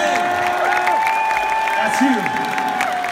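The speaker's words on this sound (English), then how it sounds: "So I'd like for you to give this man a big round of applause," A concert crowd at a show in Prague applauds and cheers for a guest, a loud, continuous roar of clapping and whoops beneath someone talking over the PA.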